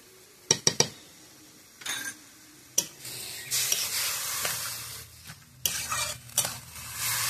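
Ridge gourd fries in a pan with a steady sizzle while a utensil stirs and scrapes it, producing sharp clinks and knocks against the metal at irregular intervals.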